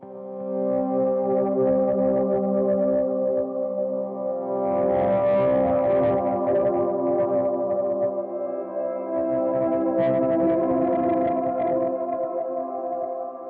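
A sustained electric guitar pad swells with washy delay and long reverb, chords blooming and overlapping into a smooth, continuous ambient wash.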